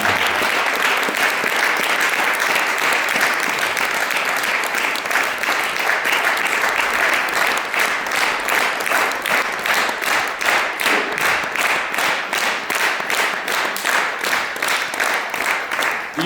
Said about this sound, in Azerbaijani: Tamaşaçı sevgisi və o sevgi ilə naxışlanmış alqışlar.